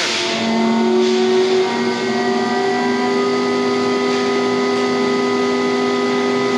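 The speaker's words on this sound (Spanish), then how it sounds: "me sorprendió de este motor es la frecuencia con la que llega a acelerar" A Tuowei compressor motor run by an MAM6070 controller spins up with a loud, steady, tonal whine whose harmonics climb slowly in pitch as it accelerates, with no other sound over it.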